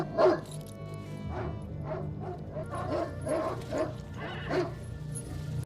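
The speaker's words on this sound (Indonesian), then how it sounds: "anjing pelacak mulai menggonggong mencari keberadaannya" A tracking dog in the film Sniper barks repeatedly in short, loud yelps and whining bursts, close and urgent, over a low droning music bed.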